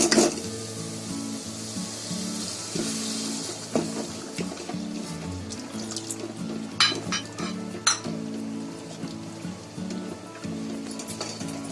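Water hits frying spices in a hot pan, giving a steady sizzle with clinks of a utensil against metal as the mixture is stirred.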